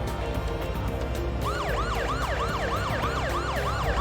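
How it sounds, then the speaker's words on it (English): A police car siren in the video game Parasite Eve starts partway through and wails in a fast, repeating up-and-down pattern, loud and steady over a low engine rumble. "Putting sirens on and everything just to get back to the station"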